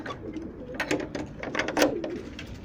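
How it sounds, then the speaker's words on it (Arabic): Pigeons coo softly and repeatedly, several overlapping low calls with a little fluttering rustle, close by and without talk. "هاي الطيور ما شاء الله"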